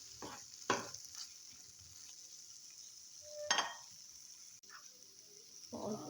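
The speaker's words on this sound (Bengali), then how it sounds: "আর একটু নেড়ে চেড়ে দিতে হবে।" Spinach and pea curry (palang matar) stirred in a pan, with soft scraping strokes and a few clinks over a faint, steady sizzle, fairly quiet throughout.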